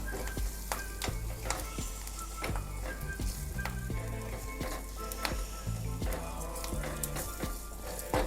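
Steady crackling sizzle of curry leaves frying in hot oil, with occasional stirring clinks of a utensil against the pan.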